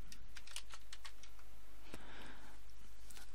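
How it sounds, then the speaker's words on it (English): Close, quick keystrokes on a computer keyboard patter in a rapid run, then slow to a few scattered taps over a constant low hiss. "and then start typing."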